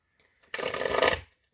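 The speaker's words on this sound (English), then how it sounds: "I am going to shuffle." A deck of tarot cards is shuffled once, a quick, close riffling burst lasting under a second in an otherwise quiet room.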